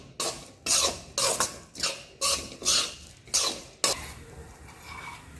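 Repeated scraping strokes of a spoon stirring a thick besan and coconut modak mixture roasting in ghee in a pan, about seven rhythmic passes, then a softer steady rustle.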